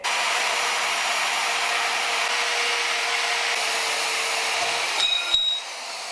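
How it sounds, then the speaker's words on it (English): WEN portable bandsaw cutting 1/4-inch brass, a loud steady whirring grind that holds evenly for several seconds, then the pitch shifts and a few clanks follow as the cut finishes. "Yeah, 1/4-inch brass was a piece of cake for this saw."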